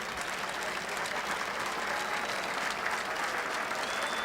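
The golf gallery at the Masters applauds Kite and Ballesteros, a sustained, broad roll of clapping from a large outdoor crowd without talk over it.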